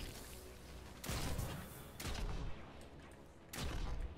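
Three loud, heavy hand cannon shots fired in a first-person shooter game while sniping for headshots, each a sharp booming blast spaced about a second apart with ringing tails.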